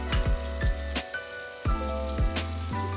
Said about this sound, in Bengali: 2 মিনিটের মতো ভেজে নেব।